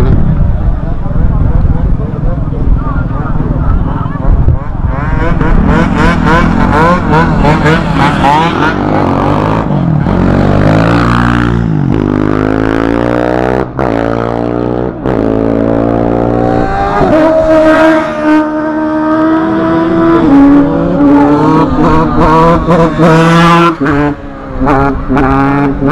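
Cars and motorbikes rev their engines repeatedly at a large outdoor car meet in Osimo, loud rising and falling engine roars close by, with people talking throughout.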